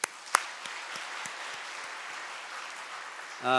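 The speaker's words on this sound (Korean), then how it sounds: "박수 한번 하시죠" Church congregation claps for two elders during a Sunday worship service, a soft, diffuse patter of many hands after a couple of sharper claps, fading low before a voice starts in at the end.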